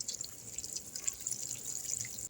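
Water pours steadily onto trays of soil as plants are watered, a soft continuous hissing patter of droplets lasting a couple of seconds, fairly quiet and close with no talking.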